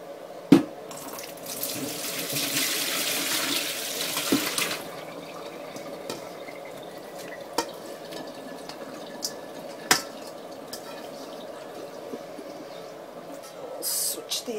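Water from a kitchen tap runs into a sink while cucumbers drain for bread and butter pickles, a loud rushing stream for a few seconds followed by quieter trickling, with scattered clinks and knocks of a pan.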